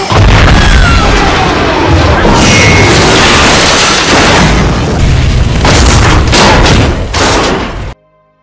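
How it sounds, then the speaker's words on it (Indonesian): A car slams into a train in a film scene, setting off a dense, loud rumble of explosions and crashing debris that roars on continuously for several seconds before cutting off abruptly. "sebuah mobil terlihat berjalan oleng dan akhirnya menabrak kereta tersebut, mengakibatkan serangkaian ledakan yang sangat dahsyat"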